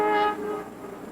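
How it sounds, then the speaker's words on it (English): A passenger train sounds a short tonal horn blast that fades into a low rumbling of the moving cars, brief and moderately distant. "ride a train right into the center of town."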